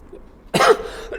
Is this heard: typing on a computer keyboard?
no